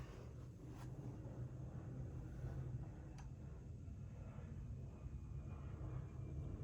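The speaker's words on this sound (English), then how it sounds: "I'm just going to wait for that plane to go over." An airplane passing overhead: a steady, low, distant rumble fills the whole stretch at an even level, with no speech.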